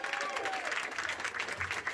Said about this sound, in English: Ryan Ragasa Barasa left the hospital this week to a round of applause.